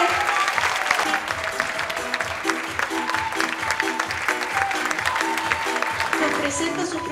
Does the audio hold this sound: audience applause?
yes